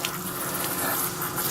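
Pink antifreeze pours steadily into the drain traps of a Trilogy camper, a close, continuous liquid gush.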